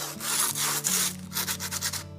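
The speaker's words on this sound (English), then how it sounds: "and lightly sand it down." Sandpaper lightly sands dried white grout on a thrifted DIY brick wall. Close, dry rasping strokes repeat in a quick back-and-forth rhythm, soft and even, with no voices.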